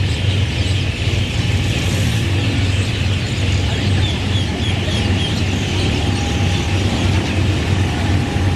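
A train crosses the River Kwai bridge, a loud, continuous rumble of wheels and rail clatter heard close by, with steady mechanical noise throughout and no talk over it.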